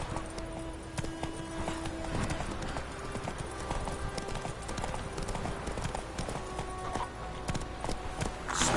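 Roach the horse gallops in The Witcher 3, a steady rapid clip-clop of hooves close by over a low game soundtrack, with no speech.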